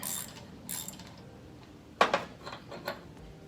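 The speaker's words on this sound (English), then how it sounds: "So I'm gonna take a wrench and undo this cover that helps hold all the hoses in place." A wrench loosening the hose-holding cover on an 80s or early 90s Kubota tractor, with a few faint scrapes and then a quick pair of sharp metallic clicks, followed by softer clinks.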